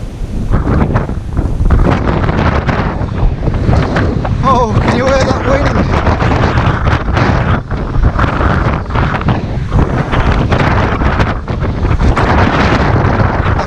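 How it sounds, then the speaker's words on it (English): Strong, gusty wind buffets the microphone on a riverbank during early-morning pike fishing, a loud continuous roar with brief softer dips, nearly drowning everything else. "And it's still very breezy."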